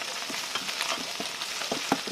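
Onion, ginger and garlic frying with a close, steady crackle, with repeated scraping and stirring strokes in a quick, uneven rhythm.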